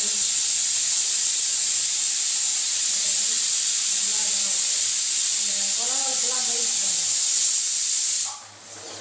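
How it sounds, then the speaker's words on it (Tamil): Okra fries in oil in a pan and is stirred, giving a loud, steady sizzling hiss. A voice talks briefly over it partway through, and the sizzle drops suddenly near the end. "இப்போ வந்து வெண்டைக்காய் கிண்டி விட்டுக்கலாம்"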